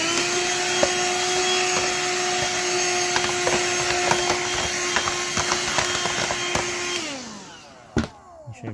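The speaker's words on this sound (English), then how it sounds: "So I'll vacuum that again." A vacuum cleaner runs loudly and steadily up close, cleaning out the dirty inside of a broken, seized Kobot RV353 robot vacuum, with scraping and knocking over the drone before it winds down and stops.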